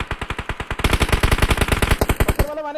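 Rapid automatic gunfire in a battle royale shooter game, a fast steady stream of loud close bursts lasting over two seconds before cutting off, with a faint voice underneath.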